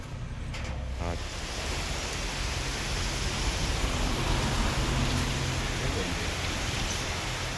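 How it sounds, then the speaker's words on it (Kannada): A sudden heavy downpour pours down outside a house, producing a dense, even roar of rain. The rush is loud and unbroken from start to finish, with no voices. "ನೋಡಿ, ಸಡನ್ ಮಳೆ."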